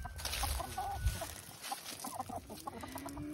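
Meat chickens and other birds in a backyard coop area cluck and squawk in short, overlapping bursts close by, a busy flock chatter throughout.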